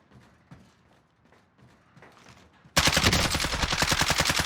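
Rapid automatic gunfire from a first-person shooter video game bursts in loudly after a quieter stretch of faint game sounds and clicks, the shots hammering in a fast steady rhythm until the end.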